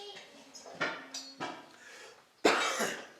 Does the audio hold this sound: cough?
yes